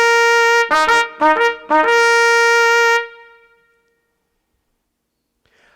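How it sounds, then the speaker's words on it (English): Trumpet blasts, three short bright bursts followed by one long held note, loud and close, then fading to near silence as a voice briefly speaks at the end. "The trumpet blasts were to be the exact ones I sent with the messages."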